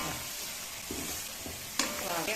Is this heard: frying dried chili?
yes